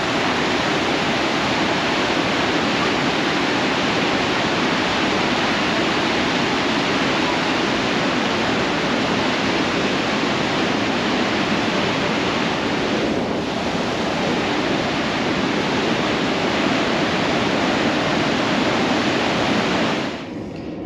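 Waterfall at Yellowstone, a loud, steady broadband roar of rushing water that continues without a break throughout and eases slightly at the very end.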